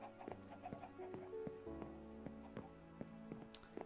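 Chickens in the Minecraft video game give repeated short clucks at an irregular rhythm, quiet and fairly close over a low steady background hum.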